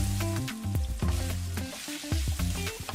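Bangus (milkfish) fried in a pan gives a steady, close sizzle of hot oil that runs the whole time, with a few soft clinks and stirring noises over it and no one speaking.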